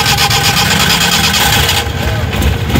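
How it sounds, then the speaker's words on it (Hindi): A used Suzuki Ravi pickup at a Sunday car bazaar runs with a loud, close engine rumble that stays steady at idle, with a slight dip in tone near the end. "इंजन का साउंड आपको सुना दिया हमने"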